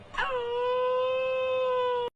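A single dog gives a sustained, steady howl or whine lasting about two seconds. It is close and loud, starts with a brief yelp-like onset and cuts off abruptly.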